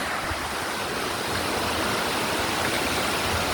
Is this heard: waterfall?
yes